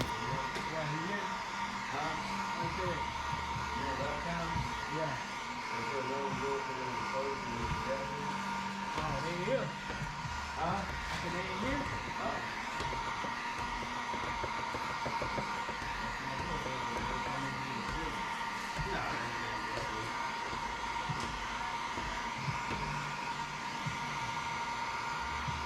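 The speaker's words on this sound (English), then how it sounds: "Another thing to remember is that the heat gun will do all the work." A heat gun blows hot air onto window tint film on a car's back window, a steady droning whoosh that runs the whole time at even loudness, with a constant mid-pitched whine and some clatter underneath.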